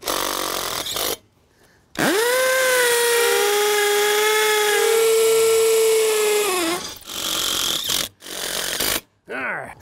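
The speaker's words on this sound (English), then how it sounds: "that's not the fastest hammer drill in the world, but it is the most convenient" A hammer drill drives a 1/4 by 3 1/4 inch Phillips-head Tapcon screw while building a shed, giving a loud, steady whine of about five seconds that rises in pitch as the bit catches. Brief bursts come before and after, with short silent gaps between.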